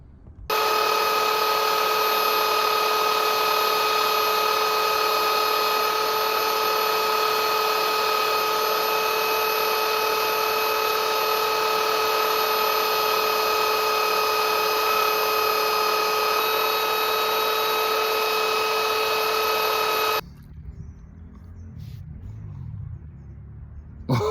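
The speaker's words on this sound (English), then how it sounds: "I'm gonna taper the mouthpiece a little bit, and I'm just gonna do that by sanding it on this." A power sander whines steadily and loudly for about twenty seconds while a pipe mouthpiece is tapered against it, a constant high-pitched motor drone with strong harmonics that cuts off abruptly, leaving quieter room noise.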